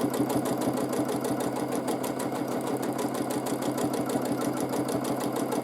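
Sewing machine stitching free motion quilting in wavy lines and loops, a steady fast rapid-fire whir of needle strokes running continuously up close with no pauses.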